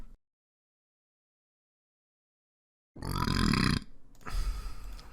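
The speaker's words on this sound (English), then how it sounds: "Burping." A loud, drawn-out burp follows near silence, then a second rougher burp or grunt comes close to the mic.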